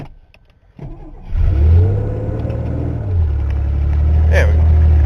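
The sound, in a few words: old Ford engine starting and running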